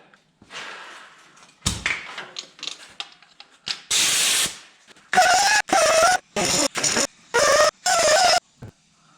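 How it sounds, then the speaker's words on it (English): A power grinder works on parts of a 2013 Ram 1500 hub bearing, starting with scattered clanks and handling noises and then a run of about six loud, whining grinding bursts, each a second or less, separated by short pauses. "I'm gonna grind those down first."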